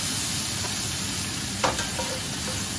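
A little bacon frying in a pan, an even, steady sizzle at moderate volume with one sharper pop or scrape partway through; no talking.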